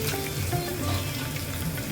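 Red chillies, sago pearls and peanuts sizzle and crackle steadily in a hot pan, a close, continuous frying hiss with faint stirring throughout.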